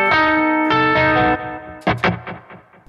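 Electric guitar through a TC Electronic Mimiq Mini doubler pedal set to about 9 o'clock, a sustained strummed chord with a swirling flanged, doubled shimmer, then a few quick picked notes ringing out clearly on their own.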